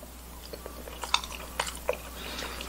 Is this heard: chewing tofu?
yes